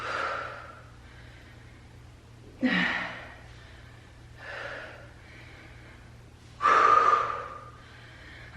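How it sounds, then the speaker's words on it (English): Heavy, forceful breaths during a bodyweight workout of Romanian deadlifts and Bulgarian split squats, a few sharp snorting exhales standing out against softer panting with quiet pauses between, close to the mic. "I'm just breathing to get through this."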